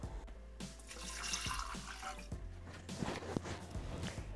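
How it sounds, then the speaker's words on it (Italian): Water pours steadily into a Thermomix TM6 mixing bowl while farro and chickpea soup is being prepared, a continuous close splashing and trickling with a few louder gurgles, heard alone without talk. "aggiungiamo l'acqua"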